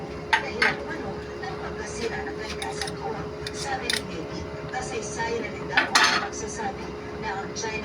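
A utensil clinking and scraping against a pot while a pork igado dish with bell pepper and liver spread is stirred, several sharp metallic taps over a low cooking hum, with some speech nearby.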